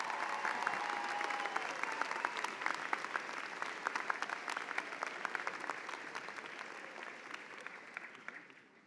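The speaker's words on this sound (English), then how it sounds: "Let's give them a round of applause." A crowd at a university convocation gives a long round of applause for the faculty, dense clapping with sharp individual claps on top, slowly thinning and fading out near the end.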